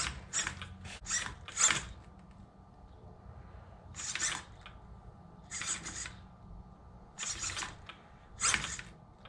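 An Arrma Big Rock RC truck's steering servo sweeps lock to lock, giving short bursts of whirring buzz in clusters, quick repeated ones first and then slower spaced pairs, fairly faint against a quiet background.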